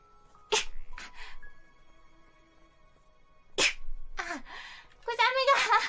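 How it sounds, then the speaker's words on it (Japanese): A young woman streaming as an anime-style virtual character sneezes sharply twice, close and loud, then gives a sniffly groan and starts speaking. "くしゃみが出ちまいました。"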